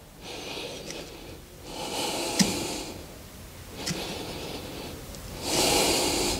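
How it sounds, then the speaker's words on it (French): Slow, deep breaths during a guided breathing exercise, long airy exhales and inhales rising and falling in waves, close and fairly loud with no talking. "On expire et on revient."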